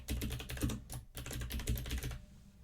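A folder name being typed on a computer keyboard: a quick, close run of light key clicks in uneven bursts with a short pause partway through, ending in quiet.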